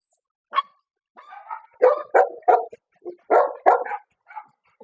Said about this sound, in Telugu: హస్కీ డాగ్స్ చాలా ఉన్నాయి ఇక్కడ